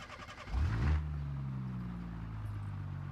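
A Vivace car engine in BeamNG.drive revs up sharply on a track and then settles into a steady, droning hum, close and fairly loud, with no one talking.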